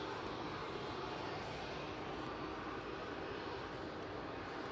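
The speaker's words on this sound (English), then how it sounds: "Air France A220 now lining up for a 2-3 left departure." An Air France Airbus A220 jet lining up for departure on an airport runway, a steady broadband engine roar heard at a distance, constant and unbroken throughout.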